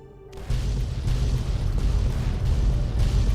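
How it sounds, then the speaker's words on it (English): A heavy explosion in the video game Fallout 3 erupts after a brief quiet moment, then settles into a sustained rumbling roar that stays loud throughout. "We got explosions."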